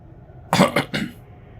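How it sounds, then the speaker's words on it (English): Three quick coughs in a row, close and fairly loud, from a person in a damp, humid climate, with quiet room tone around them. "Sorry, excuse the coughing."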